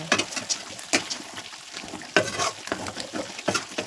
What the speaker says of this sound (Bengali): বরালি মাছ ভাজিয়া তুলছি, তেলে ফ্রাই করছি